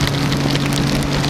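Steady rain pattering during a motorcycle ride, a dense hiss of drops with a low engine hum underneath, constant and close.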